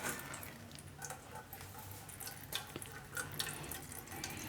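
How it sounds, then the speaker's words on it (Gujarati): Excess water drains from curd hung in a tied cloth and drips steadily, a faint close trickle broken by soft irregular splashes. "તો વધારાનું પાણી છે એ આ રીતે બધું નીતરી જાય."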